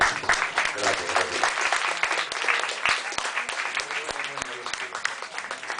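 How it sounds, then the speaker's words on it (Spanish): Audience applause for a poet receiving an award at an arts café evening, a sustained dense clatter of many hands clapping at close range with scattered voices mixed in, holding steady for several seconds. "Así que pido un aplauso"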